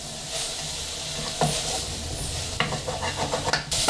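Chopped onion sautés in a pan with a splash of water for a wheat soup, a steady close sizzle broken by scraping stirs that grow busier toward the end, with no voices.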